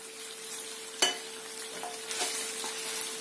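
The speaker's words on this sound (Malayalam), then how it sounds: "നമുക്ക് ചിക്കൻ എല്ലാം ഒന്ന് ഫ്രൈ ചെയ്തെടുക്കണം" Chicken pieces fry softly in a pan, a steady quiet sizzle with a few sharp stirring clinks and scrapes scattered through.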